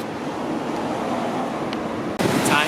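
Sea waves wash steadily onto a beach at Can Picafort, Majorca, a continuous loud roar of surf with some wind noise and a brief cut near the end.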